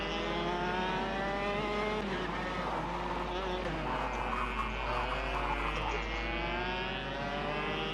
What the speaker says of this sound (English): if you drive through the paddock that I've just gone past, you can actually hear all the go-karts running